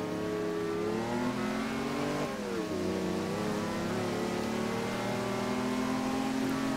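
A Mercedes-Benz driven in the racing game Forza Horizon 2 on a wet road gives a loud, steady engine drone that dips in pitch once midway, as if shifting gear, then pulls on evenly with no talk.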